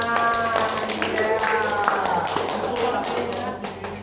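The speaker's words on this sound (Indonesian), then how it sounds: "Oke, tepuk tangan." A classroom of students claps in applause during a lesson, a run of sharp, scattered hand claps close by, mixed with voices talking over them.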